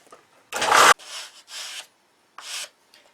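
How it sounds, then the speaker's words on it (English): A part for a control-line electric Thunderbolt model airplane is hand-sanded, making several close, loud rasping strokes of varied length separated by silent pauses. "I'm going to sand this up now"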